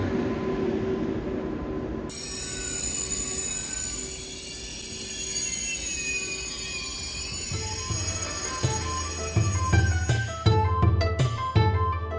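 A South Korean high-speed train rumbles steadily with a high metallic squeal of wheels, then low clunks and rhythmic thumps build as it moves along the track. No talking.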